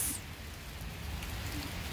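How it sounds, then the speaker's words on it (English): Hail falls in a brief steady patter, a dense close rattle of pellets striking outdoors with no voices. "It's hail."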